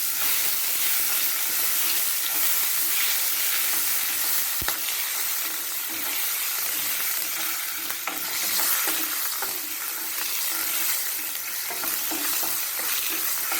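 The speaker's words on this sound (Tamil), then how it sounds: "காஞ்ச மிளகாய், கொஞ்சமாக பெருங்காயம் தூள், தக்காளி பழம் நல்லா வதக்கும்." Tomatoes are sautéed with dried red chilies and asafoetida powder in a pan, giving a steady, loud, close sizzle and hiss throughout, with occasional stirring scrapes and taps.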